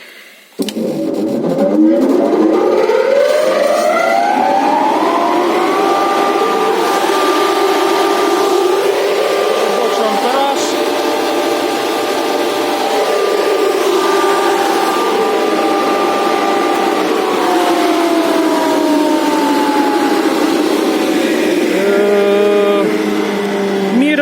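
A 220 V electric motor on a vacuum hay cutter switches on and spins up to a loud, steady whine that holds for a long stretch before winding down slightly near the end, with no talking over it.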